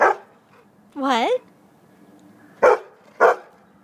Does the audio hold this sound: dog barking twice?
yes